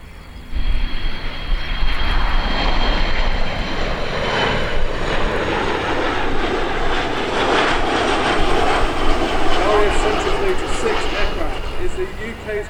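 A Royal Air Force Boeing E-3D Sentry airborne early warning jet with its engines roaring steadily and loudly throughout, a broad rushing drone with a faint high whine, while a voice speaks over it.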